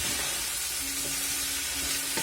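Pork and peppers frying in a pan, a steady bright sizzle throughout with faint stirring scrapes, close and continuous with no talk.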